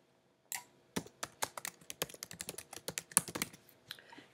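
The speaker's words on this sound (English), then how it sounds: "And type my heading in there." Keys tapped on a computer keyboard while entering a heading in a graphic design layout, a close, quiet run of about twenty distinct clicks at an uneven typing rhythm, with no voices.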